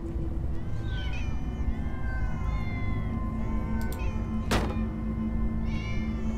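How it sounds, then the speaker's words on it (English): Several cats in the Minecraft Story Mode video game meow in quick succession over a low steady game background hum, with a sharp thunk partway through. "So many cats."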